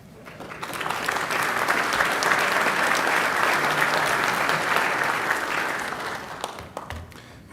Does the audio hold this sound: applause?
yes